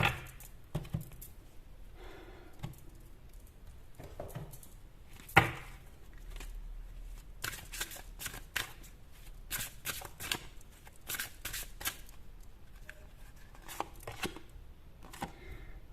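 Tarot cards shuffled and drawn by hand in a quiet room, a run of crisp riffling and flicking bursts with soft card slaps and brief pauses, close and fairly faint, with no talking.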